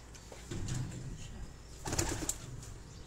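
Pigeons coo on a rooftop in Rawat, soft and fairly close, with a brief flutter of activity near the middle against quiet outdoor background.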